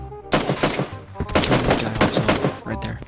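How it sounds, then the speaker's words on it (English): Rapid bursts of automatic gunfire from PUBG, loud and close, firing in several clustered volleys with brief gaps across the clip. "Fix the recoil on this gun,"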